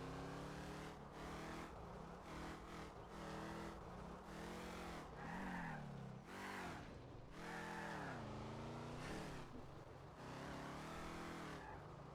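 Heavy car engine in Garry's Mod (Simfphys) revving and shifting pitch with tire squeals and skids, loud and continuous throughout, no voices.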